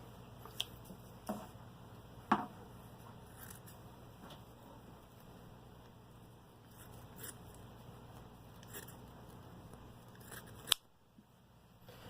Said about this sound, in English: Next step is to cut your filter floss.